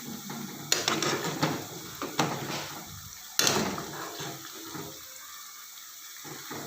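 Kurkure snack mixture being stirred and fried in oil with a spoon: a soft, steady bubbling sizzle broken by a few sharp clanks and scrapes of the spoon against the pan.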